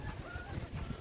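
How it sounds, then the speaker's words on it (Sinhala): Chickens in a small farm coop give soft, scattered clucks, quiet and close, over a low background hum with no speech. "මේ ඉන්නේ ගයිස් කුකුල්ලු"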